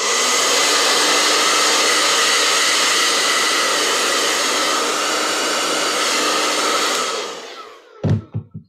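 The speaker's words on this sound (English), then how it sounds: "I'm gonna hit it with the gun." A heat gun blasts hot air over a drying paint layer on a packing tape transparency, a loud steady roaring hiss that holds for about seven seconds, then cuts off, followed by a few soft knocks.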